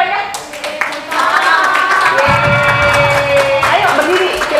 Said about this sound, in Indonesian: Iya, aplaus dulu.